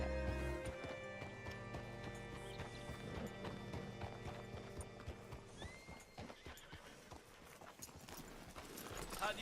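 Horse hooves clip-clop steadily beside a hitching post in Red Dead Redemption 2, with a whinny and dense layered game sound around them, the steps growing sharper and more distinct in the later seconds.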